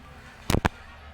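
Gunshot in the Granny video game, a sharp close double crack, two quick loud reports a fraction of a second apart over low background hum.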